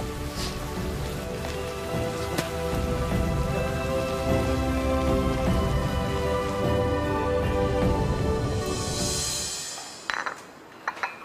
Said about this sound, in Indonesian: hujannya mulai deras lagi nih